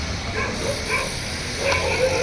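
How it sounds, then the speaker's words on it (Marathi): Dogs barking at a distance outdoors, a couple of faint, short calls over a steady background hiss. "हे कुत्र्यांचा आवाज येतो"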